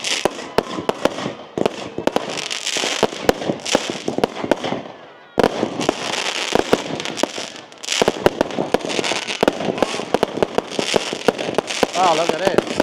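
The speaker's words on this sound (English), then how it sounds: "Okay, so the firework display is about to start." Bonfire night firework display heard from the street: dense, continuous crackling and sharp bangs burst in rapid irregular volleys, with one loud thump near the middle, while people talk and exclaim throughout.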